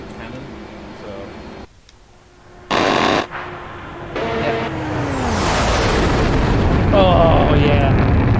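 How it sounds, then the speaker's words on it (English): An F/A-18 cannon fires in the DCS flight combat game, loud bursts and booming blasts over a steady engine roar, with a voice talking intermittently. "The dynamic sound when it comes to the cannon."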